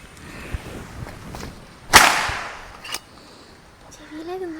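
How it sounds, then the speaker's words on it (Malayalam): A sharp, loud crack like a powder-actuated nail gun firing, one main shot followed by a quieter pop, with faint voices and room noise around it. "പടക്കം പൊട്ടിക്കുന്ന മാതിരി സൗണ്ട്"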